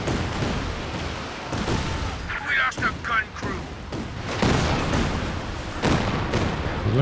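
A Land Mattress rocket artillery barrage in Company of Heroes 2 in winter, a run of rapid launches and explosions rumbling loud and dense, with a voice talking over the shelling.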